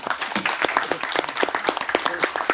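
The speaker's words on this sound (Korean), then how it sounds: "박수 한번 치시죠" Applause at a political party floor-leadership meeting, a room of people clapping steadily for a few seconds with dense overlapping claps at close range.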